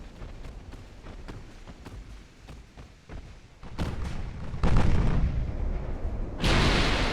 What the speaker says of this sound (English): Alright, here come the big guns.